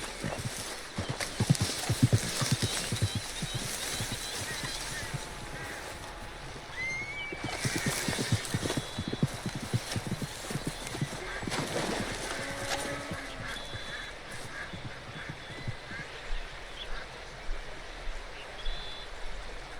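A wild horse's hooves clip-clop at a distance in Red Dead Redemption 2, over running water and ambient outdoor sound, with a brief whinny-like tone partway through; fairly quiet overall.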